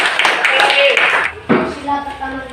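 A classroom of students claps hands together in a lively burst that fades, then a short second round starts, with voices mixed in.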